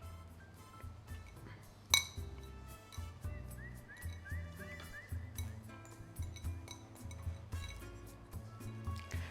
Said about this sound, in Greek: Ανακατεύω λίγο.